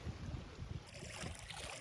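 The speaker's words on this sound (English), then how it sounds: "It's a little windy out here at the lake." Steady wind buffets the microphone outdoors at a lake, a low rumbling roar with a soft hiss, continuous and fairly loud, no voices.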